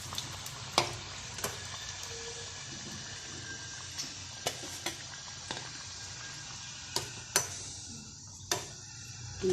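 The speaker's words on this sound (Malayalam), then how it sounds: "ഇനി ഇതേപോലെ ഞാൻ ബാക്കിയുള്ളതും കൂടെ ഒന്ന് വറുത്തെടുക്കുകയാണ്." Gram flour fritters fry in hot oil with a soft, steady sizzle, broken by sharp isolated pops and crackles every second or so, quiet and close.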